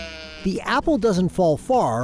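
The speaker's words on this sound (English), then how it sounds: "those are my sheep. Sorry for the noise." Sheep bleating on a family farm, several wavering, drawn-out bleats in quick succession, close and loud, with a short stretch of talk at the start.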